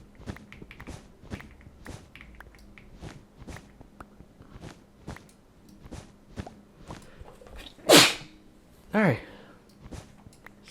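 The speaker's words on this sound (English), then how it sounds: "Sneezed." A sneeze bursts out twice in quick succession near the end, loud and close, over a steady run of soft footstep-like taps during Minecraft play in the Gregtech: New Horizons modpack.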